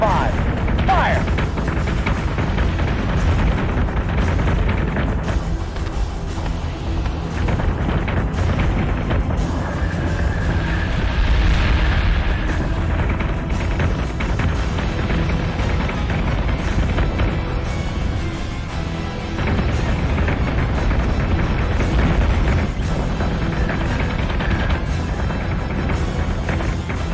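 Starship weapons fire and explosions in the Battlestar Galactica Deadlock fleet battle game, dense booming blasts and rumbling impacts pounding steadily throughout, with a voice speaking over the barrage.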